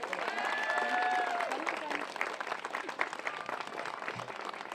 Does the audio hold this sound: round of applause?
yes